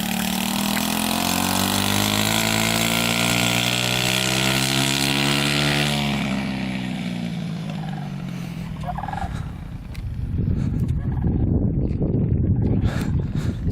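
A small 110 cc four-wheeler runs fast with a buzzing engine whose pitch climbs and sweeps, then fades into the distance. Rough, broadband crunching noise follows.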